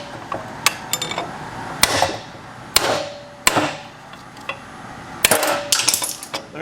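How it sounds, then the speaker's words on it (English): A small mini sledgehammer drives a bearing race out of a GM Duramax truck front differential, making a series of sharp metallic strikes at uneven intervals, close and loud with brief ringing between blows. "It's going to take a couple, 2-3 hits with my little mini sledge to get this out."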